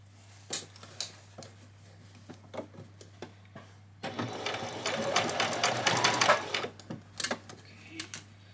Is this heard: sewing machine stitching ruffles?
yes